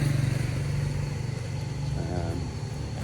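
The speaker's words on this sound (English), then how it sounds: "It's a bit noisy because the cars are doing high speed" Steady road traffic on a busy main road, with cars passing at high speed as a continuous loud engine and tyre rumble; a brief higher engine whine rises near the end.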